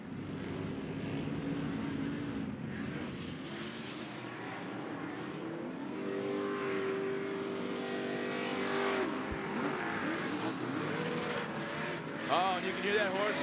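Off-road race truck engine roaring at high revs through corners during a TORC Pro race at Bark River, a loud continuous rising and falling drone from the track with a commentator talking over it.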